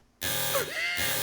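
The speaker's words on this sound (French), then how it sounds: "Alarme activée." An electronic alarm blares suddenly after a moment of silence, a harsh steady buzzing tone with a brief wavering sweep partway through.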